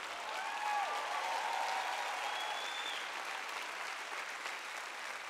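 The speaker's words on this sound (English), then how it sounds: "Come on, you can clap louder than that." A church audience claps steadily as a crowd, a broad, continuous patter of many hands at moderate loudness that holds through the moment.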